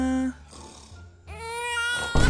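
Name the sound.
baby crying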